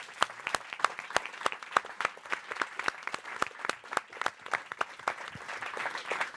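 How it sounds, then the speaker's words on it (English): A small audience claps after an open mic session on digital tools for clinical trial sustainability, fairly quiet scattered handclaps in a steady patter that thickens toward the end. "a big round of applause to the guys here"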